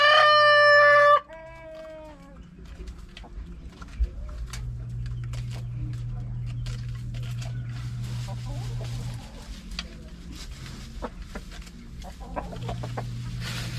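Rhode Island Red heritage chickens cluck and cackle while eating cabbage, opening with a loud rooster crow, then steady scattered clucking over a constant low hum throughout.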